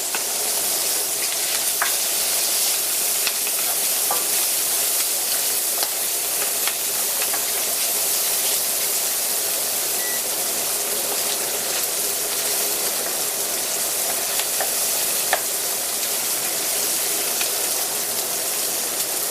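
Crushed chili flakes sizzle and crackle in hot oil, a loud, dense, continuous frying hiss with scattered pops, steady and close for the whole stretch.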